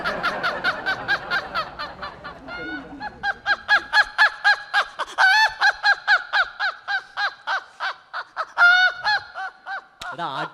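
A voice imitates a rooster crowing on a comedy stage show, producing a long run of loud, rhythmic, honking calls with strained rising and falling pitch, closing with one brief sharp sound.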